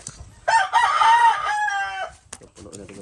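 A rooster crows loudly and close by in one long call among large chickens being fed, with brief clucks and movement noise after it.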